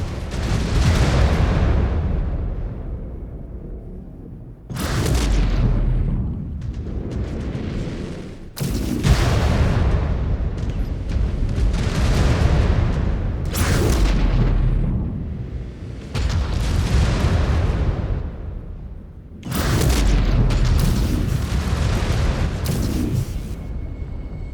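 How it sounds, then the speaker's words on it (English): Missile impacts in the MechWarrior 5: Clans mech combat game land as a series of loud, deep explosions. Each heavy booming blast rolls and decays into rumble before the next strikes, about every few seconds. "Incoming missile."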